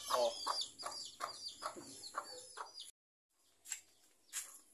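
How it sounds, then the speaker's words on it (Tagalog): A chicken clucks in a quick series of short, close calls, then falls silent briefly before two more clucks follow. "Ito yung manok ko."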